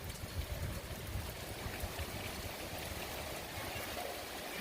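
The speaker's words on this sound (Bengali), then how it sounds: "অনেক বৃষ্টি।" Heavy rain pours down in a steady, dense wash of noise close by, with running water streaming continuously throughout and no voices.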